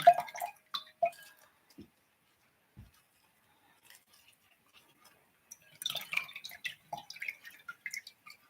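Water drips and trickles from a freshly watered plant pot draining indoors, a handful of faint scattered drops and light clinks, with busier splashing dribbles near the end.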